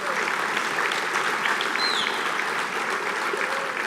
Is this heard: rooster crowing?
no